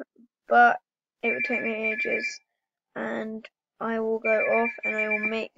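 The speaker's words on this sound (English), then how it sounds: "sorry, that's the phone ringing." A telephone rings twice in short bursts while a person keeps talking over it, the bell tone sitting under the voice during each pause-free stretch of speech.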